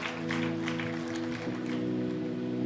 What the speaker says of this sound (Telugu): ताली बजाकर परमेश्वर को చప్పట్లు కొట్టి धन्यवाद దేవునికి వందనాలు చెల్లిస్తాం